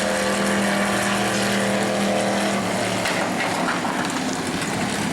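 A super stock race car roars around the track at New Smyrna during qualifying, its engine a loud, sustained drone with a steady pitch that shifts slightly as it passes.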